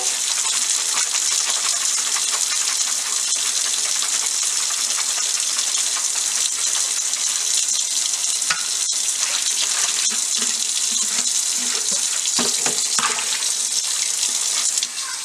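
Water runs steadily and forcefully from a tap into a water bottle being rinsed, a loud continuous hissing splash with occasional sharper splatters and knocks toward the end.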